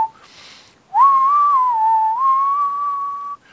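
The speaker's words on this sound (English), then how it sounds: "I can hear you whistling Dixie in the bathroom." Someone whistles a tune alone, one long steady melodic line that rises and falls gently for a couple of seconds, clear and close, in a bathroom.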